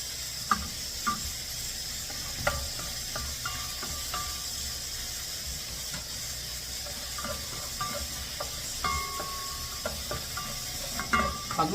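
Garlic and onion sautéing in a pan make a soft, steady sizzle, with intermittent light clinks and scrapes of a utensil. The sound is close but fairly quiet, and no one speaks.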